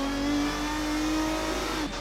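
Racing car engine in the Assetto Corsa racing game, heard from outside the car: a loud, steady high-pitched engine note held at speed, with a brief dip near the end.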